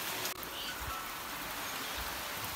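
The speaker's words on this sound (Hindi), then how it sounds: "देखो इतनी तेज बारिश हो रही ना, बहुत खतरनाक हो रही" Heavy rain pours steadily outside in a hilly mountain setting, a dense, even hiss filling the whole stretch with a few low thuds and one brief dip near the start.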